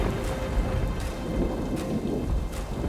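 A thunderstorm plays as a sound effect in a children's story reading, with dense steady rain and low rumbling thunder throughout, loud and close, no voices.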